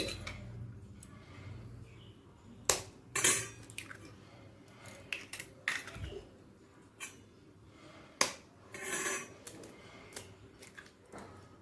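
Eggs cracked one at a time into a pan of onions and turmeric for a Bengali egg curry, giving a few sharp, isolated knocks and taps spaced several seconds apart over quiet sizzling.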